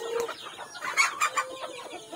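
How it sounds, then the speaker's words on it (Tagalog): Chickens cluck and squawk in short bursts, a few birds close by, moderately loud with no talking. "magpakain muna tayo sa mga manok."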